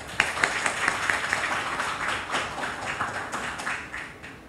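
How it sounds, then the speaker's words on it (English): Audience applause at an academic conference opening ceremony at Seoul National University's Asia Center: a sustained, even wash of many hands clapping at moderate volume, with no talk over it. "Please give him a big applause."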